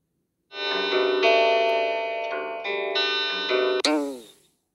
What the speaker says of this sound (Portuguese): corda de violão que quebra enquanto o violão é tocado.